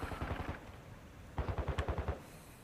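Rapid battle rifle fire in the video game Modern Warfare 2, two bursts of quick rhythmic shots split by a short pause, moderately loud, with no talk.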